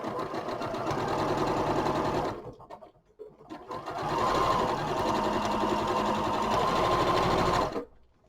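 A sewing machine chain-pieces pairs of scrappy fabric patches, a steady fast close mechanical whirr running for about two seconds, pausing briefly, then stitching again for several seconds.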